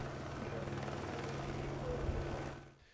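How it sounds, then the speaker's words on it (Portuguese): Military Police Águia helicopter flying over a city, a steady loud rotor and engine drone with low thumping throughout, fading slightly at the end. "o helicóptero Águia da Polícia Militar deu apoio aos policiais nas ruas"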